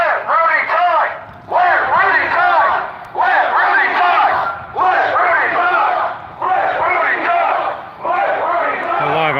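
A loud crowd of protesters outside the Michigan Senate office in Lansing shouts in unison, repeated chant bursts about every second and a half with brief dips between them, close and forceful.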